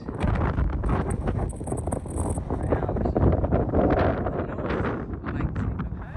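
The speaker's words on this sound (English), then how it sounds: "Yes, it was really, really windy" Strong wind gusts by Lake Tekapo roar steadily across the microphone, a loud, constant buffeting rumble with crackling rustle and no pauses.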